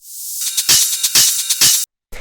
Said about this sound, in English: All it is it's just some white noise.